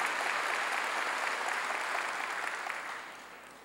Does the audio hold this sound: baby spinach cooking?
no